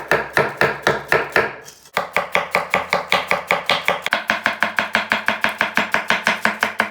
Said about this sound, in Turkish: Doğrayabildiğimiz kadar ince doğrayacağız.